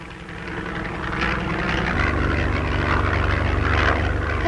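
A propeller airplane coming in to land, from a 1940 drama film: a steady droning engine hum that swells slightly and grows deeper and more even as it nears, heard alone.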